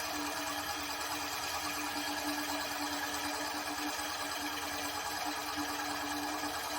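A spring-driven flywheel generator runs at a steady pace near 563 RPM, giving an even, unbroken mechanical whir with a faint tonal hum, close and uninterrupted.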